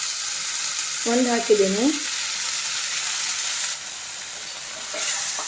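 Golden-brown onion and chopped tomato fry in a pan with a continuous close sizzle, and a voice speaks briefly over it near the start.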